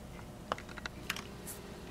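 Tiny hydrogen gas bubbles forming at a copper electrode during electrolysis pop in quick, faint, sharp little explosions, a few scattered crisp clicks at close range in a quiet room.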